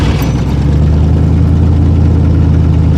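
A Ford Granada engine runs loud and close with a low, uneven rumble and throbbing idle, no voices over it.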